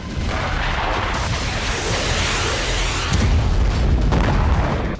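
Heavy shelling on the Donetsk battlefield comes across as a deep, sustained booming roar that swells louder midway before fading, with no voices.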